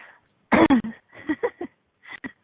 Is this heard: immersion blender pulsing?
no